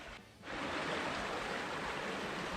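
A creek rounds a bend and pours over a bedrock shelf, giving a steady broad rushing wash that dips briefly near the start and then holds loud and constant, with no one talking.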